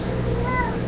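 A pet cat lets out a single brief meow over steady background noise, close by.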